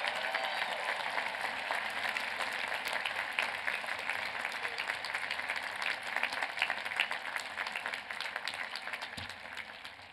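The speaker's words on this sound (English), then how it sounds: "give one more round of applause to this amazing group of honorary degree recipients" Audience applause fills a university commencement ceremony, a dense, steady wash of many hands clapping that holds for about ten seconds before tapering slightly at the end.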